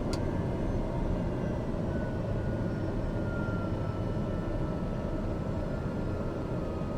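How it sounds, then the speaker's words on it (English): TBM turboprop aircraft on approach to Grand Cayman, slowing down with the landing gear going down, heard from the cabin as a loud, steady engine and airflow roar. "Slow us down and put down our landing gear."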